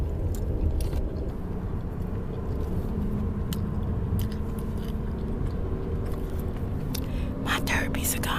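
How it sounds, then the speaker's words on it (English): Gum is chewed close to the microphone in moist, rhythmic smacks and clicks over a low, steady rumble, with soft whispering throughout. "My third piece of gum. I feel like the gum is so small."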